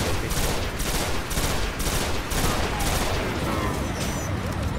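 Sustained rapid gunfire from the Destiny video game, a dense continuous barrage of shots with regular bursts, loud and close throughout without a break.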